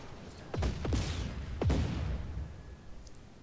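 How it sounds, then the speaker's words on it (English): Fuel tanks blowing up in the open-world action game Just Cause 4: a few heavy booming blasts in quick succession, loud and close, each with a falling rumble, then a lingering low tail. "That was a proper explosion."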